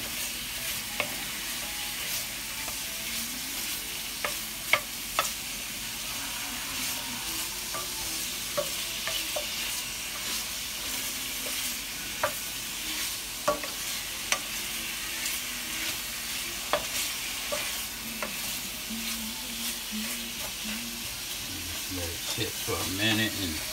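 Sausage sizzles steadily in a hot pot for seafood gumbo while a utensil scrapes and stirs now and then, a continuous close frying hiss.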